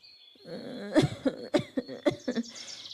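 A rapid series of harsh, close coughs, about six bursts in quick succession, with raspy throaty sounds between them and no talking.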